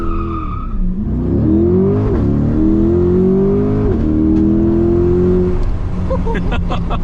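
A 2023 C8 Corvette launches hard in Z mode, its engine revving up through rising gear sweeps as the wheels spin and squeal, loud and close from inside the car, with a brief dip between shifts.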